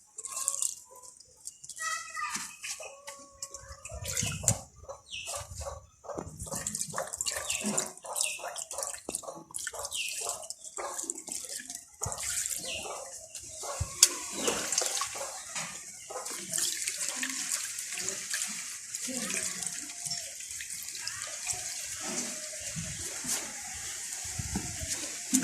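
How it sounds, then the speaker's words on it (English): Water poured onto sawdust in a waste car tire planter for growing onions, a steady close trickle and splashing with scattered drips that runs throughout without talk. "Because it's sawdust, you need to add adequate amount of water"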